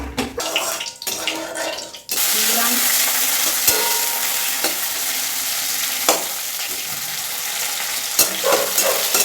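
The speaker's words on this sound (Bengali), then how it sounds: "কড়াই দেবো অনেকটা বেশ কালো জিরে ফোড়ন দেবো দুটো শুকনো লঙ্কা" Nigella seeds and dried red chillies hit hot oil in a pan and crackle into a loud, steady sizzle after a couple of seconds of clattering handling sounds, with occasional sharper pops.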